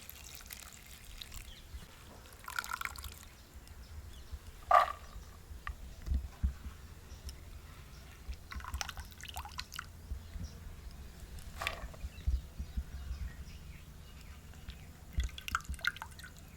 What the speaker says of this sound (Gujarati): હવે આને છે ને આપણે સેજ પાણી નાખીને ધોઈ નાખીએ